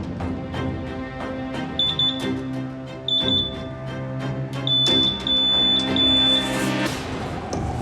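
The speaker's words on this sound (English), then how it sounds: "Looks like we've got an alarm for cocaine." An itemiser drug-testing machine at an Australian border checkpoint sounds a repeated high electronic beeping alarm for cocaine, in short bursts and then a longer run, over steady machine hum.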